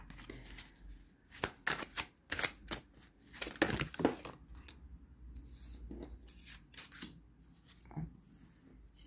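Tarot cards shuffled and drawn for a pyramid spread, a series of crisp riffling snaps and papery slides close by, busy at first and then sparser soft flicks as cards are laid down.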